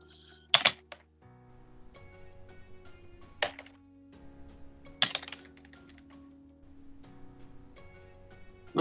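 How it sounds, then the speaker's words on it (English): Typing on a computer keyboard while configuring a network in a terminal, a few scattered keypresses with a couple of louder clacks, close and fairly quiet over a faint hum. "I can just type the word no and press space."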